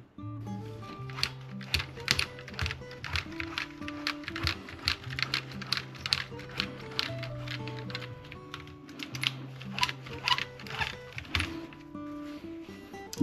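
Keys of an Acorn BBC Micro (BBC B) home computer clacking repeatedly while being cleaned, a close, busy run of plastic clicks and taps with uneven rhythm, no talk.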